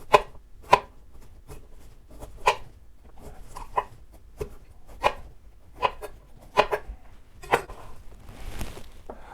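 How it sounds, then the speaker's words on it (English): Kitchen knife cutting through aubergine on a board, a string of crisp, irregular chops and slices repeating about once per second, close and clear with no talk. "you can just kind of cut into it like you're sharpening a pencil with a knife"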